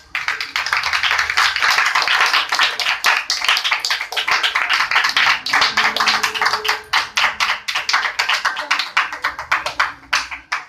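A congregation claps in welcome at a church service, a dense, steady run of applause that carries for about ten seconds before thinning into scattered claps near the end, with no talking.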